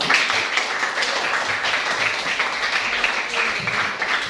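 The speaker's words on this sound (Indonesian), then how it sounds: "tepuk tangan untuk kita semua dulu" A classroom of children claps together after a lesson on recycling used materials, a steady, fairly close round of applause lasting several seconds with no one speaking over it.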